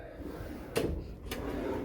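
Cabin drawers aboard the Royal Caribbean cruise ship Wonder of the Seas slide open and shut, two or three short, close sliding thumps over a steady low ship hum.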